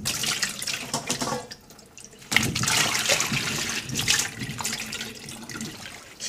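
Cucumbers being rinsed clean under running tap water in a sink before pickling into oi-ji, a steady splashing flow with a brief lull then heavier gushing, close and fairly loud.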